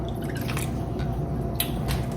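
Chicken broth pours steadily into a pot, a continuous wet trickle with a few soft drips and splashes, fairly close.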